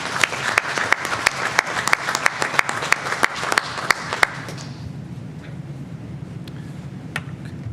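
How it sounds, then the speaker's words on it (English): Applause at a Board of Education meeting: a room of people claps steadily for about four seconds, then it thins out to quiet room noise with a few scattered claps. "Let's give them another round of applause"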